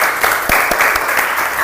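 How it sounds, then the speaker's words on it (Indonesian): A classroom group claps for the first group after its presentation, a dense steady burst of many hands at close range lasting under two seconds. "Oke, tepuk tangan dulu untuk kelompok"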